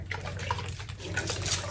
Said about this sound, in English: And then I'm gonna spray my hair with the Ecoslay Sangria.